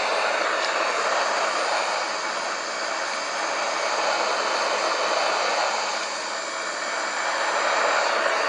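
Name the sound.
Airbus A330 aircraft engines in Microsoft Flight Simulator video game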